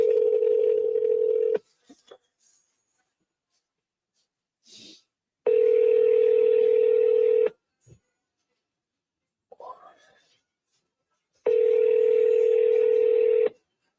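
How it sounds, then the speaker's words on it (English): A phone call being placed gives three long, steady ringing tones, each about two seconds, separated by quiet gaps with faint brief noises, clear and close. "Let's call Jane."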